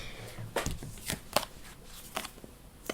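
Playing cards are shuffled in short riffling bursts, a few quick crisp flutters separated by brief pauses, close and fairly quiet.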